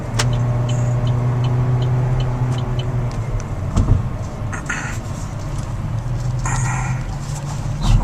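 Steady Sacramento road traffic rumbles throughout, with passing vehicles, a low engine drone and occasional brief sharp noises, no voices.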